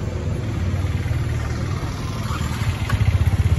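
A Yamaha R15 motorcycle engine idles steadily, its low rumble holding throughout and pulsing a little stronger near the end, with no talk.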